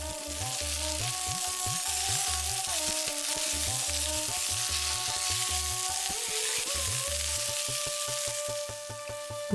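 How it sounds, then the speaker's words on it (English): Frozen beefless tenders frying with browned onions for a Kabuli pulao, a steady broadband sizzle that holds for the whole stretch, with a low rhythmic hum beneath and no talking. "Now that our onions have browned, we're adding our beefless tenders."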